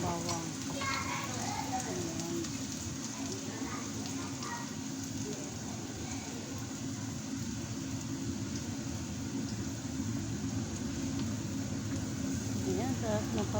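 Shrimp with ginger and garlic fry in a pan, making a steady, close, loud sizzle that never lets up, with a person talking over it.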